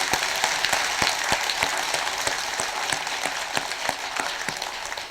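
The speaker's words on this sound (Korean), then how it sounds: "주지스님과 여러분들께 박수 한번 보내주십시오." An audience at a Buddhist temple dharma service applauds the head monk and returning travelers, dense steady clapping with distinct individual claps standing out throughout.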